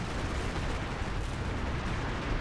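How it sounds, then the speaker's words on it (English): Zeroing artillery strikes in the Company of Heroes 2 strategy game pound a fortified area in a dense, continuous barrage of rumbling explosions. The deep, heavy booms blend together without pause. "You're seeing a lot of explosions. That's from the zeroing artillery."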